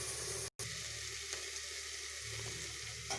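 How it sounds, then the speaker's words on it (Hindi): Beans and onion frying with spices in a pan, a steady close sizzle that runs almost unbroken apart from one very brief gap near the start. "मैंने मसालों के साथ थोड़ा सा बीन्स और प्याज को फ्राई कर लिया है।"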